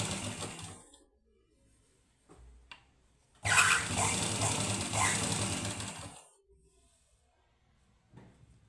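A sewing machine stitches a boat neck blouse, running in one loud, close burst of about three seconds between short taps and quiet handling.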